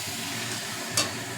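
Boiled Malabar spinach being stirred into fried masala in a pan, a soft continuous sizzle with light scraping and one brief sharper clink near the end.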